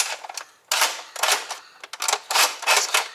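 A Red Strike Longshot toy blaster being primed and fired, heard up close as a quick run of sharp mechanical clacks and snaps with short pauses between bursts.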